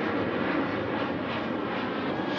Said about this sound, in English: we noticed that the airplanes are very loud here